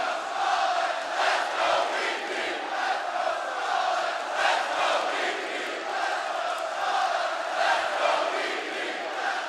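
A packed esports arena crowd at the ELEAGUE Major 2017 CS:GO grand final, Virtus.pro versus Astralis on Overpass, keeps up a steady, loud roar of cheering and shouting with rolling swells and no break.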